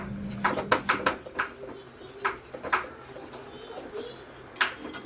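A spoon stirs semolina and jaggery sheera in a kadhai, knocking and scraping against the metal pan in a few irregular, close clanks separated by quieter gaps.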